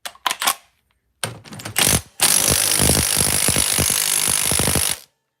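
A half-inch drive impact wrench hammers at a stuck part in loud bursts: a few short rattling hits, a brief pause, then a long continuous close hammering run of about three seconds that cuts off abruptly.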